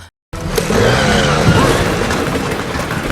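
A manual-transmission car races away in a movie escape scene, its engine roaring up with tires squealing and skidding, loud and close, after a brief moment of silence.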